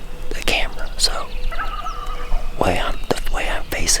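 A Merriam's wild turkey gobbler calls during a hunt, a rattling gobble in the middle between soft whispered voices nearby, with other short bird calls around it.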